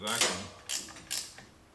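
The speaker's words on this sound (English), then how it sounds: "Taking these 2 bolts off that are holding it to the" A ratchet works on the bolts holding the master cylinder to the vacuum assist of a 1976 Trans Am, giving several sharp clicking bursts spaced apart, fairly quiet and close.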